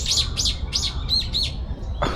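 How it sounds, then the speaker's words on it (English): Repeated bright, squeaky calls from a Japanese woodpecker in Shakujii Park, five or six quick notes in a steady series, then a short sharper note, all clear over a low rumble of park background noise. "It's a Japanese woodpecker."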